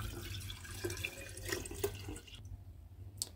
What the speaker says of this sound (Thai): น้ำเชื่อมที่เราปล่อยให้เย็นนะคะเทลงไปเลย